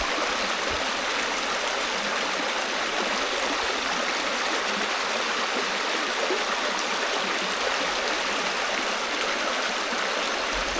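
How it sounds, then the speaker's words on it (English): A Dartmoor stream flows beneath a footbridge with a steady, even rush of water that stays constant and moderately close, with no voices over it. "Just have a listen to the water."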